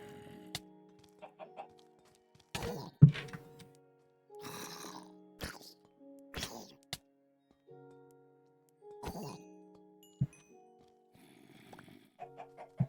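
Clucks and throaty squawks from a lava chicken in a video game come in irregular bursts of varying length, close and clear over near silence, with a few sharp clicks between calls.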